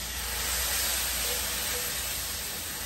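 Steady broadband hiss of steam rising as water hits ground beef frying in a hot pan, a constant sizzling rush with no pauses, close and fairly loud.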